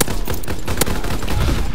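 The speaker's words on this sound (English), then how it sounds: "these guys are using like the fastest of rapid fire I've ever seen" Rapid, dense gunfire from a World War II video game, a continuous close burst of overlapping shots rattling without pause.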